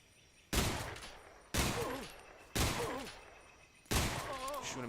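Gunfire in the stealth video game Metal Gear Solid Delta: four loud, separate shots about a second apart, each a sharp crack followed by a ringing, decaying tail, with no talking.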